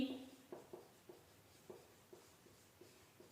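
A pen or marker writes during a Class 10 maths lesson on angles, with faint rhythmic scratching strokes in short repeated bursts, close and quiet.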